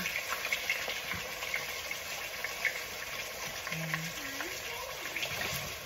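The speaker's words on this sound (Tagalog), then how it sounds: "Pina-fried ko muna siya bago ko siya. Konting fried lang." Chicken pieces frying lightly in a pan before being braised for adobo, a steady close sizzle with occasional crackles and stirring, and a voice speaking briefly over it.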